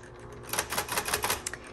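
Rapid keystrokes on a 1970s Smith Corona Electra 210 electric typewriter, a quick irregular run of sharp clacks, close and fairly loud over a low motor hum, with no talking.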